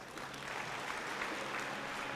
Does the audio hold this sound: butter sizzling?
no